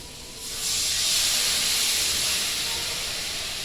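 Water poured into a hot cooking pot in a home kitchen sets off a loud, sustained steaming hiss that rises sharply and then slowly eases.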